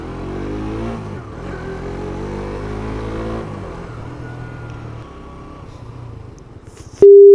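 A Kawasaki motorcycle at a bike meet drones past with a steady, loud engine note that slowly fades, ending in a sudden sharp electronic beep.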